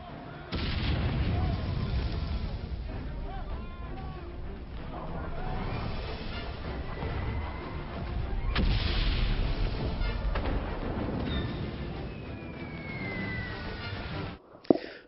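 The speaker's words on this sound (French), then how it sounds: "George, le pilote britannique de la Royal Air Force, repérait les positions allemandes pour guider les tirs d'artillerie" Artillery thunders across a WWI battlefield in the video game Soldats Inconnus, with rolling booms and distant blasts layered over music and ambience, steady and fairly loud for most of the stretch.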